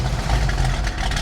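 A 1974 Jeep CJ5 engine running at idle after starting, a loud, steady, low rumbling chug close by with no talk.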